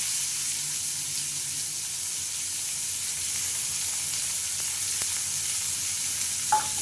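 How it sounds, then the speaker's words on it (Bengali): Chopped onions frying in hot oil in a home kitchen pan, a steady close sizzle throughout, with a brief clink near the end. "পেঁয়াজগুলো দিয়ে দেবো তেলে"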